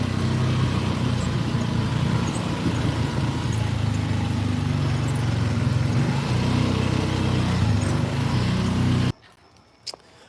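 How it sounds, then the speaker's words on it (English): A vehicle engine runs with a steady, droning low rumble heard from close by. It holds constant for several seconds and then cuts off abruptly near the end, leaving near silence. "So hopefully the engine wasn't too loud."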